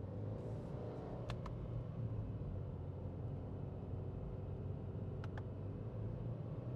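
A 2021 Subaru WRX Sport's engine drones as a steady low rumble while driving, with continuous road noise and a few faint clicks near the start and end, no voices.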